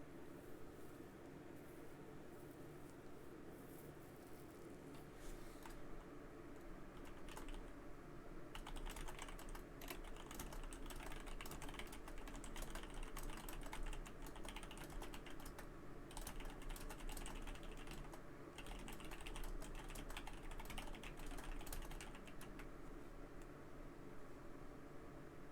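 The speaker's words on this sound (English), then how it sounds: "Sorry, typing. I can hear it." A computer keyboard is typed on in a steady, faint clatter of keystrokes that runs throughout, close to the microphone against a quiet background hiss.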